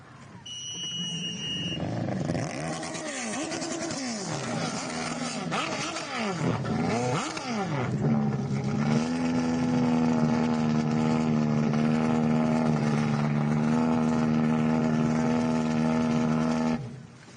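A racing boat engine rumbles loud and near on water, its pitch rising and falling through rev changes before settling into a steady droning exhaust note, with no talk over it.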